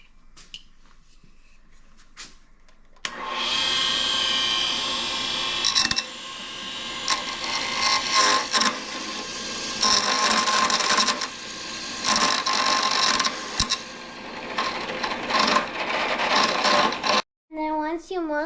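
Spinning rotary chisel rounding off the corners of an ink pen blank, a loud continuous grinding whir with fluctuating intensity for most of the clip, stopping abruptly near the end as a voice begins.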